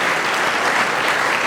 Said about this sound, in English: if we could give a round of applause to all those folks